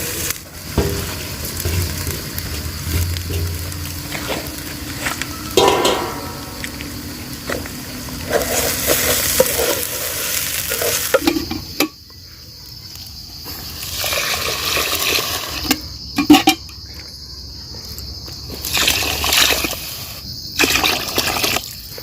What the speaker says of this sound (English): Then I'll go ahead and add in the rice.